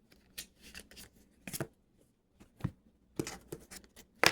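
Tarot advice cards are handled and shuffled close by in soft, irregular papery riffles and taps, with quiet gaps and a sharper snap at the end.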